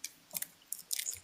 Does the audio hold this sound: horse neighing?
no